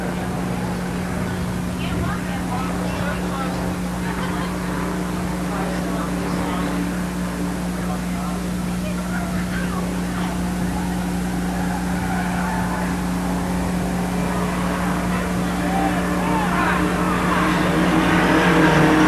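Stock cars race around Motordrome Speedway, a continuous roar of engines with a steady drone and rising intensity toward the end, heard under a track announcer calling the race.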